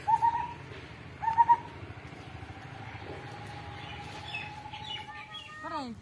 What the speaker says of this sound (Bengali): ঘুঘু ডাকতেছে